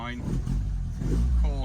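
Lotus Elan engine held at eighth throttle, a steady low rumble under someone talking.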